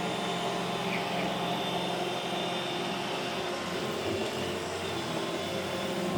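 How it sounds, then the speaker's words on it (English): An iRobot Roomba E5 robotic vacuum cleaner runs with a steady, close whirring hum and constant suction hiss, holding an even level throughout. "Go across the bridge, Roomba."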